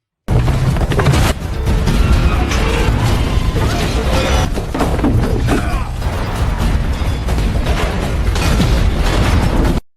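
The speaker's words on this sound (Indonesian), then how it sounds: "Mobil itu menghantam sebuah menara air, membuatnya roboh." A loud, continuous crash and rumble as a car hits a water tower and it collapses, heavy debris tumbling and smashing, dense and chaotic from start to finish.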